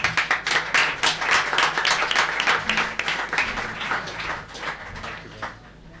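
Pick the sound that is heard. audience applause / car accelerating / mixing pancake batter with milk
audience applause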